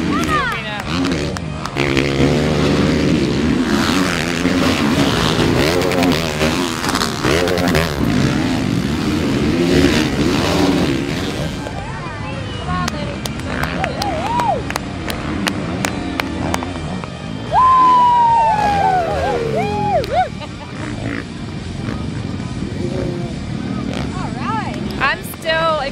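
Motocross motorcycles racing in an amateur 250-class Dash for Cash event, engines revving and rising in pitch as bikes pass, with a crowd and loud commentary over the roar throughout.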